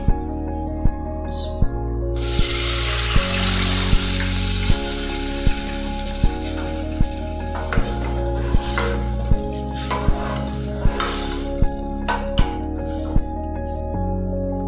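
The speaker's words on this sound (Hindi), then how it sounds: "अब मैं इसमें डालती हूँ तकरीबन 2 कप जो है पानी।" About two cups of water go into a hot pan of sautéed almonds for sooji halwa, setting off a loud, sudden sizzle that keeps hissing steadily over faint, regular clinking and background music.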